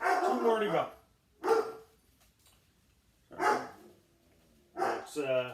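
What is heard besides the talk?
dog barking in the background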